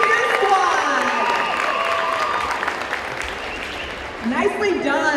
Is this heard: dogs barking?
no